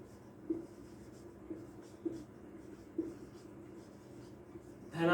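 Writing on a board while working a maths problem gives faint, soft scratches and taps in a loose rhythm, close by, with a quiet voice in the background.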